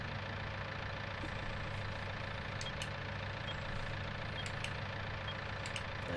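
A John Deere 6010 tractor engine idles steadily in Farming Simulator 19, a continuous low droning rumble at constant level with no talk over it.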